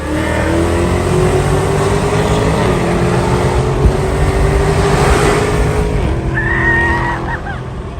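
A Hemi V8 muscle car engine revs loud and close, its pitch climbing in a long pull before dropping sharply as it shifts, then rising again, with a brief high whine near the end.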